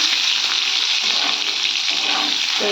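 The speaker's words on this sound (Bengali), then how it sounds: "এই দেখুন আলুটা ভেজে নিচ্ছি" Potatoes fry in a pan in a Bengali home kitchen, a loud, close, continuous sizzle that holds steady throughout with no talking.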